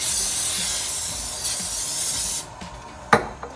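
A steady aerosol hiss of cooking spray onto a pan for about two seconds, then stops, followed by a sharp clink and a light tap.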